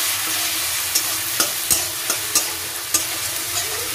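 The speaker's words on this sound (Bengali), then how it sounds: "ওই যে পেস্ট করে রেখেছিলাম যেগুলো, আদা, কাঁচা লঙ্কা আর হলুদ, জিরে, ধনে, ওটা দিয়ে দেবো। দিয়ে এবার মশলাটাকে আমি ভালো করে কষবো।" A spice paste of ginger, green chili, turmeric, cumin and coriander fries in a pan, a steady close sizzle broken by several sharp stirring scrapes at irregular intervals, with no talking.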